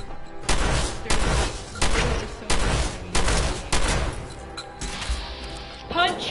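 A shotgun fires in a video game, about ten evenly spaced booming blasts in quick succession, loud and punchy, with a brief whooshing effect near the end.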